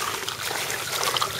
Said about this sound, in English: it's pumping so much water now that it's overflowing on my tank because I have it gravity fed